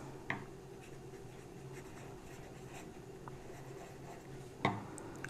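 Pen writing on paper, a faint, close, continuous scratch with a couple of small taps, quiet and without speech.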